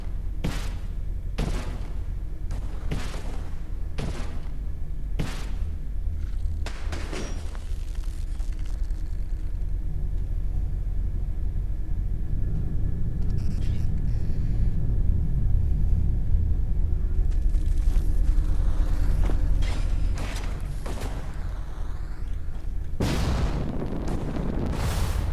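Automated turrets fire in the Fallout 4 Far Harbor game, heavy booming shots landing in bursts over a constant low rumble, with a long stretch of droning noise between the volleys.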